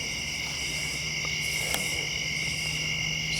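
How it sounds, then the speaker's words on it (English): Insects chirp steadily outdoors at night in a quiet wooded setting, a dense, continuous high-pitched trill with no gaps, joined by a few faint distant clicks. "No, it's eerily silent. I mean, outside of the bugs,"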